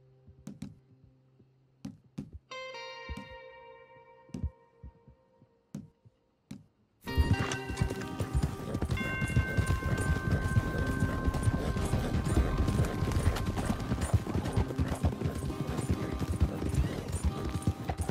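Horses galloping in the video game Red Dead Redemption 2: after several seconds of sparse, quiet knocks, a dense, loud run of hoofbeats sets in and continues steadily to the end, with a fuller rumble beneath it.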